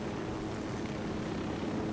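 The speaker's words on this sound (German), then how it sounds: "Dann fliegen wir hier mal mit meiner Drohne mal rüber." Small drone flying in the video game Tom Clancy's Ghost Recon Wildlands, a steady, even whirring drone hum that runs unbroken for two seconds with no speech over it.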